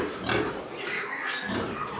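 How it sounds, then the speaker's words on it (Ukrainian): A sow grunts while being driven home on a farm, with rough, close snorts and grunts spread across two seconds and no talk. "Але звісно, є такі свиноматки, які ну, дуже важко вигнати, щоб вони пішли прогулялися"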